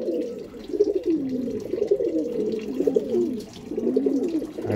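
Pigeons coo close by in low, rolling, throaty phrases that repeat almost continuously, soft and warm with short breaks between bursts.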